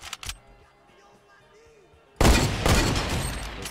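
A sudden burst of loud gunfire in the Fortnite video game, making back-to-back headshots. Faint sounds come first, then a sharp blast that rings out and decays noisily over the last second and a half.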